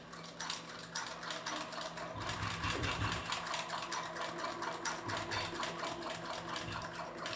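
A sewing machine runs steadily with a dense, rapid mechanical rattle as it stitches very thin thread through layers of fabric. The sound is close and continuous, with no talking.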